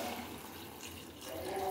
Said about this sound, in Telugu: వెజిటేబుల్స్ మునిగేంత వరకు వాటర్ పోసుకోవాలండి